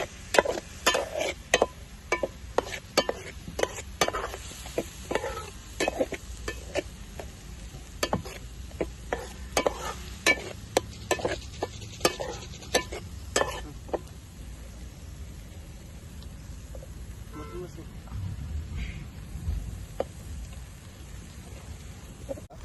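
Ginger garlic paste sizzles in a pan for a village-style fish curry, with sharp irregular clacks of a spoon stirring against the vessel over a steady frying hiss that carries on after the stirring eases.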